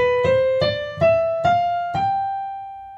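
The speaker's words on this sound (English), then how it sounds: "The Mixolydian scale starts on the fifth scale degree of your major scale," A Mixolydian scale starting on G climbs upward as single plucked notes in an even rhythm, bright and ringing, with the last tone left to sustain and fade, no talking heard.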